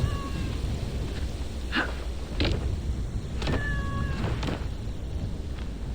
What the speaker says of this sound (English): Okay, here's the cat.